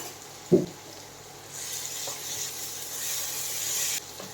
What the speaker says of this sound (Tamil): கொஞ்சோண்டு ஒரு ரெண்டு கரண்டி அளவுக்கு நான் இஞ்சி பூண்டு போடுறேன்